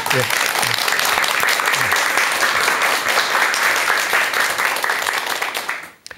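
An audience at a lecture bursts into loud, dense, continuous applause for the speaker, holding steady for several seconds before quickly fading out.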